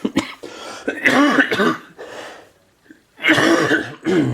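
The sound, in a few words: cough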